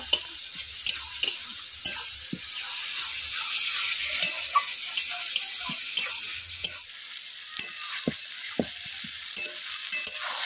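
Ginger garlic paste fries in a pan with a continuous soft sizzle, punctuated by sharp taps and scrapes of a spoon stirring against the metal, fairly close and unaccompanied by speech.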